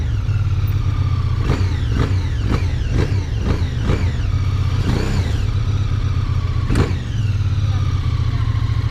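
Two-cylinder QJmotor SRK 550 motorcycle with a 270-degree crank, its engine revving in a series of rising and falling pulls over a constant rumbling drone, loud and close, with a final sharp rev near the end.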